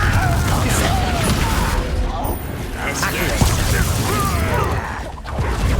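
Confringo blasting-spell explosions in a Harry Potter video game, heavy booming blasts and crackling debris over a constant loud battle din, with a brief pause before the noise swells again.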